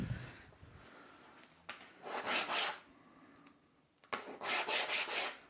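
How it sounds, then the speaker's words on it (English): Plastic mouldings on the bottom of a campervan kitchen unit are wiped in several short, close rubbing strokes, with bursts of scuffing separated by brief pauses. "Just wiping off the plastic mouldings off the bottom."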